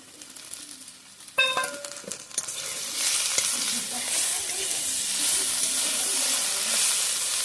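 Shrimp hit a hot frying pan in a village kitchen with a clatter, then a loud, steady hissing sizzle builds and holds for several seconds with light stirring.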